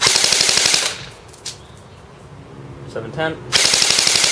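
A CYMA MP5 RIS airsoft gun fires loud, rapid full-auto bursts, one before and one after a quieter gap with a brief voice in the middle.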